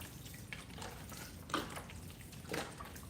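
Liquid is poured over bread croutons for a homemade sausage and sage dressing, giving a soft, steady trickle and splash that stays faint and close, with a couple of slightly louder spills.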